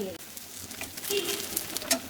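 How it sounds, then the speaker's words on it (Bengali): Cabbage fritters frying in hot oil with no gram flour added give off a steady close sizzle with scattered crackles and pops. A faint voice comes through at moments. "এগুলোকে সুন্দর করে তেলে ভেজে নেবে"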